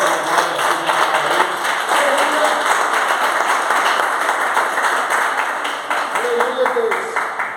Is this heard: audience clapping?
yes